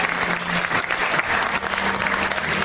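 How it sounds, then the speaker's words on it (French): Steady, dense audience applause fills a gala hall at a Miss Excellence Oise 2019 beauty pageant evening, sustained and fairly close throughout with no break. "vous saluer Angélique et Léana avec les applaudissements du public"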